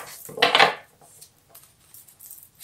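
A deck of tarot cards being cut by hand, giving a short papery shuffle and slap near the start followed by a few faint light taps and rustles in a quiet room.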